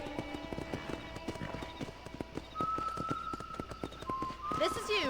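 Horse hooves clip-clop in steady rhythm in the Western video game Red Dead Redemption, moderately close, under ongoing talk and background music, with a brighter tonal sweep near the end.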